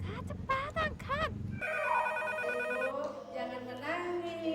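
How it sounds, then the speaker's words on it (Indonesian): A household telephone rings with a steady, loud electronic trill, preceded by expressive vocal sounds and overlapped by a voice. "Ini ada telepon dari mama."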